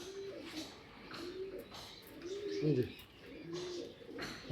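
Racing pigeons cooing close by in soft, repeated throaty rolls, with faint chirps and someone talking quietly underneath.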